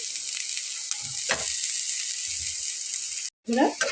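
Thinly sliced green chilies fry in a pan with a steady, bright sizzle throughout, broken by a few soft stirring knocks and a brief muffled voice near the end.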